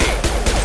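High-impact shots fired in Mass Effect 2 combat, heard as three heavy, close bursts about a quarter second apart, loud and back to back with no talking.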